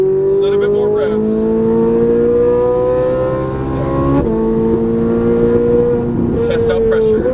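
A Ferrari 458 Italia engine hums steadily on a racetrack and climbs in pitch as it revs, with a brief shift partway through, sustained and close.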